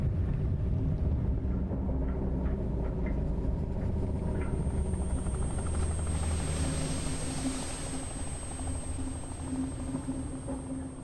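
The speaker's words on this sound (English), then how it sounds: "the executive board's helicopter rotor's already spinning" A helicopter rotor in a video game (Dredge) whirs with a low, steady thumping rumble, holding constant throughout, with a thin high whine appearing partway through.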